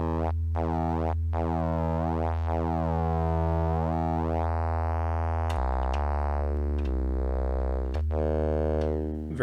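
A Cre8Audio East Beast synthesizer oscillator drones with a pure sine tone, then shifts to a buzzier square-like wave with width brought in, its harmonics sweeping and stepping in pitch.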